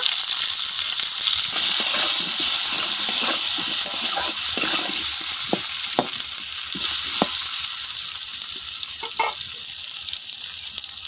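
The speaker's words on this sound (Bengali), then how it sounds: "আলুগুলো একটু চাপা দিয়ে ভেজে নেব।" Potatoes fry in the oil left from frying cauliflower, seasoned with salt and turmeric. A steady, fairly loud sizzling hiss runs throughout, broken by scattered clicks and scrapes of stirring, with no voices.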